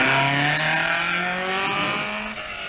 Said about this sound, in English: Consten's Alfa sounds as crisp as ever